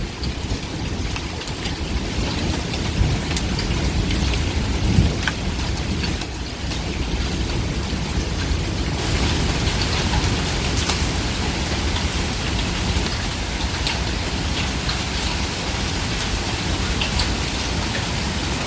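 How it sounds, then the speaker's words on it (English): Steady, heavy rain pours down in a continuous dense hiss during an Oklahoma storm, with scattered sharper ticks of pea-sized hailstones striking surfaces throughout. "We got hail, guys."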